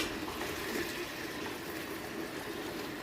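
Water pours steadily into a cooking pot of tomatoes for chicken pulusu curry, producing a continuous rushing splash for a few seconds with no talking.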